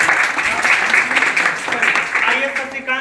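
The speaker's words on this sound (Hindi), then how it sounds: "ताली मार दीजिए।" Children clap together in a classroom gathering for Guru Gobind Singh's birth anniversary, a dense steady round of applause lasting a few seconds, fairly close and loud, with a chatter of voices mixed in.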